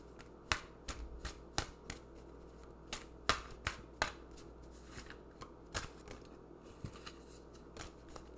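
Tarot cards being shuffled by hand, a run of crisp, close riffling snaps and slaps in an uneven rhythm, with a few cards falling loose, no talking over it.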